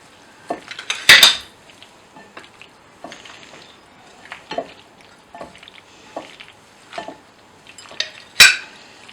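Macaroni chana chaat is tossed with chaat masala and red chili in a bowl, with sparse spoon clinks and scrapes and two louder clattering knocks, close by and otherwise quiet.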